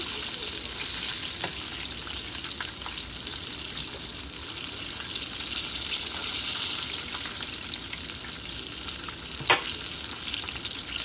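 Steady bright sizzle of chicken frying in hot oil, continuous and close, with a few sharper pops and crackles breaking through, one louder near the end.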